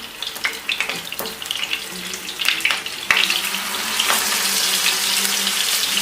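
Oil heats in a non-stick tawa for frying pearl spot fish, a steady close hiss that builds and becomes a continuous sizzle after a few scattered crackles, with no voices.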